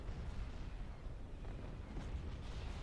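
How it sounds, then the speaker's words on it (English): Proton bomb explosions rumble in the space strategy game Empire at War with the AOTR mod, a dense continuous low roar of overlapping blasts that holds steady and loud throughout with no distinct breaks. "See those massive explosions? Those are the proton bombs."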